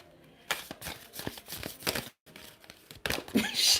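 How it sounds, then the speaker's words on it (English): A tarot deck is shuffled by hand in quick, papery riffling bursts with a brief pause midway, close and fairly quiet, with no talking. "Shuffling is diabolical."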